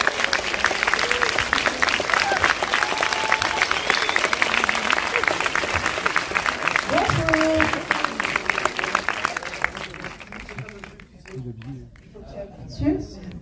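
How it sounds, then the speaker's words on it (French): Sustained applause from a large cinema audience at a film premiere, loud and dense, gradually fading out as voices begin speaking near the end. "Applaudir Franck Dubosc et Rim Carici, s'il vous plaît"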